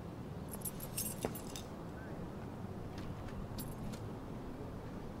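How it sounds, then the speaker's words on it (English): Keys thrown onto a roof in the video game Life is Strange, giving a faint metallic jangle in a few short clusters over a quiet background hum. "She threw his keys on the roof."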